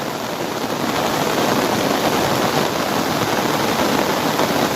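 Heavy monsoon rain pouring in the Gir region, a dense, loud, unbroken hiss of downpour holding steady throughout with no voices.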